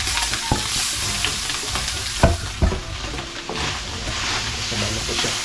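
Onion and garlic sizzling loudly in hot oil as they are sautéed, a steady frying hiss with a few clanks of a stirring utensil, close by, no talking.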